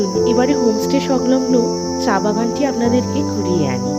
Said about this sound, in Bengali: ঝিঝি পোকার ডাক, নিস্তব্ধ নিরিবিলির মধ্যে